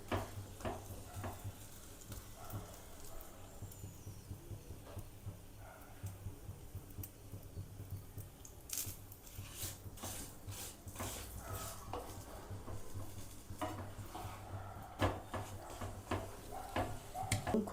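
Aloo paratha fries in oil on a pan with a faint, steady sizzle. Quiet scraping and clinking of a utensil against the pan are heard through the middle.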